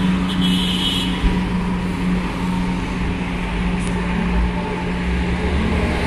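A Dewa Ruci bus overtaking on the road, heard as a loud, steady engine drone and road rumble close by, holding level for several seconds without speech.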